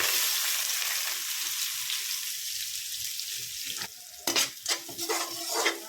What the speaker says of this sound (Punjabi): ਤੇਲ ਹੋ ਗਿਆ ਤਰ ਗਰਮ ਤੇ ਪਾਉਂਦੇ ਆ ਜੀਰਾ ਨਾਲ ਹੀ ਪਾ ਦੇਨੇ ਪਿਆਜ਼